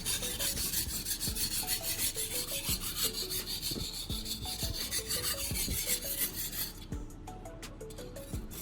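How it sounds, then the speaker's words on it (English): A blade strokes back and forth across a finer whetstone, a steady close rasping scrape repeated in even rhythmic passes, continuous and fairly quiet with no talking. "removing the deeper scratches left by the coarser stone and making the blade smoother"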